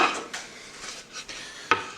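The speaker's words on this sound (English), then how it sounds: "I will cut it with a sharp knife on a board." Rolled poppyseed dough for Lithuanian kučiukai is cut with a sharp knife on a board, giving several light, separate knocks and taps at an uneven pace in a quiet kitchen.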